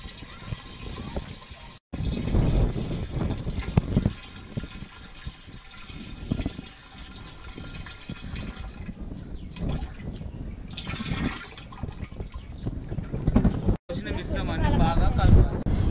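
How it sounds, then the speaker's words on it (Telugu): Dry ginger milk decoction is poured into 200 litres of water, with liquid splashing and filling sounds running beneath steady narration. "తయారైన సొంటి పాల కషాయాన్ని 200 లీటర్ల నీటిలో కలుపుకోవాలి"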